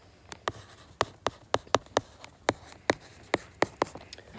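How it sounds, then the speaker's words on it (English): Marker strokes on a lesson slide while a graph of increasing, decreasing and constant functions is written out large: a dozen or so short, sharp squeaky taps in an irregular rhythm, close and fairly quiet, with no talking. "I'm going to write this up here really big"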